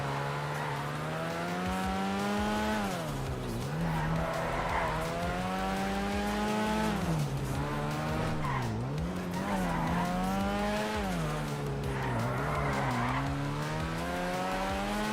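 A car in a video game drives with its tires skidding and squealing. The engine hums and rises and falls in pitch throughout, loud and continuous.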